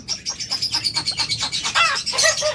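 A tame pet bird, a lovebird or cockatiel, chirps in a rapid, regular run of close, bright calls, ending in a few harsher squawky notes.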